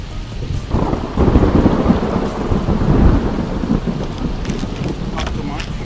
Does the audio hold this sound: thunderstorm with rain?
yes